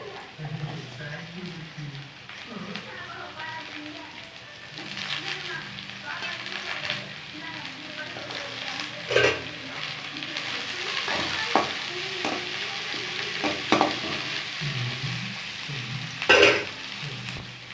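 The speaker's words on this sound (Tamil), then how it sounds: "இப்போ பீன்ஸ் போட்டுக்கலாம்" Vegetables for a carrot and bean soup sizzle and bubble in a pan while a spoon stirs them, with intermittent scraping clinks over a steady frying hiss and a voice talking underneath.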